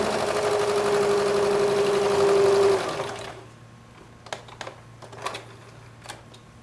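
Sewing machine stitching a quilt block, a fast rapid-fire run of needle strokes lasting a few seconds before stopping, followed by scattered quiet clicks and handling sounds.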